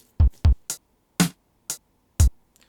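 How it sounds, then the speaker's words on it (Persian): Close, dry drum hits, a few deep thuds alternating with sharper higher strikes in an uneven pattern, with silence between each hit. "به صدای این درام گوش بدید."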